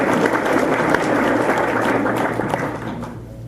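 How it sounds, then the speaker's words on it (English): A crowd at a Republican club debate in Saddlebrooke, Arizona claps in a sustained, dense round of applause, close and loud, slowly tapering off toward the end. "You should give yourselves a round of applause."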